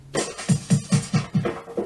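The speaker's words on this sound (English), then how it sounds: "And there's also a drum fill that goes with it," Short drum fill sampled from a Yamaha PSR-E473 / PSR-EW425 keyboard: a run of five or six evenly spaced punchy drum hits ending in a lighter flourish, close and clean with no voices.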